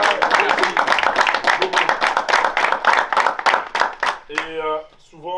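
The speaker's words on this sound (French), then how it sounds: "On peut applaudir Adam." An audience claps steadily for basketball player Adam after a record-breaking EuroLeague tournament, a dense run of close handclaps that fades out, followed by a voice speaking.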